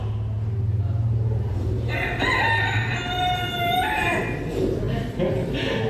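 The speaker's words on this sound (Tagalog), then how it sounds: "And immediately the cock crew." A rooster crows loudly with a long harmonic cock-a-doodle-doo in the middle of the clip, over a steady low hum and scattered background noise.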